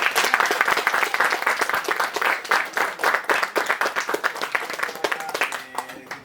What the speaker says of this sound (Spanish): Un aplauso para Vicent